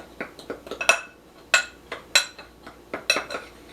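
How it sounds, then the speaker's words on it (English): A spoon clinks and scrapes around a bowl of dry ingredients with salt for a half sheet crumb cake, producing a series of about a dozen quick, bright taps in an uneven rhythm, close and alone. "I'm just going to give that a real quick stir with my spoon"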